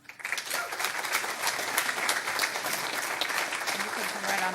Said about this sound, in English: I think they all deserve another round of applause, though.